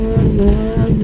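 A Nissan Micra rat rod engine revving hard, a loud, steady, buzzing close-up engine drone held at high revs for about a second.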